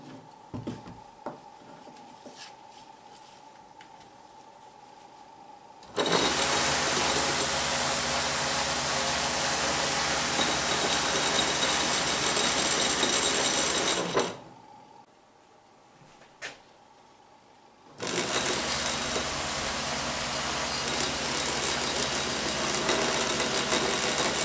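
Homemade experimental quadcopter with motors on a 12-volt battery: a loud, steady high-pitched motor whine runs for about eight seconds, stops briefly, then starts again and holds steady, with no talk.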